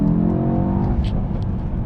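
Mercedes-AMG E63 S 4Matic V8 in Sport Plus mode, a loud deep engine drone with steady harmonics that fades slightly toward the end, heard from inside the car.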